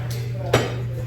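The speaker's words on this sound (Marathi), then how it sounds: "डिशवॉशरला मी हे भांडी लावते" A single clear clink of a dish set into a home dishwasher rack, brief and close, over a steady low appliance hum.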